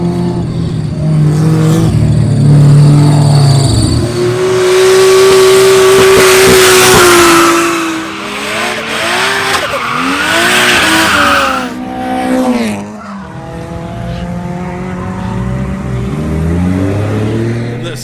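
A Mazda FC RX-7 drift car at a grassroots drift event, its engine revving hard with loud tire squeal and rising, falling pitch as it slides past on track.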